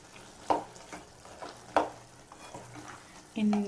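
A spoon stirs chilli powder into brinjal curry frying in a pan, giving a few sharp scraping strokes over a soft sizzle, with a brighter scrape near the end.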